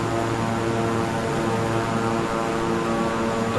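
Steady, loud drone of aircraft propeller engines in Microsoft Flight Simulator 2020, a continuous layered hum with no talk over it.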